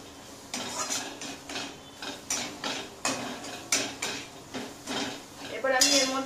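Maggi noodles are stirred with masala in a pan, producing a rhythmic series of close metallic scrapes and clanks from the utensil against the pan, fairly loud, with a brief rattle near the end.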